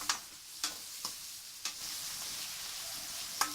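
Onions with curry leaves frying in oil for kothu parotta, a soft continuous sizzle broken by several sharp scrapes and clinks of a spatula stirring the pan, faint and close, with no voices.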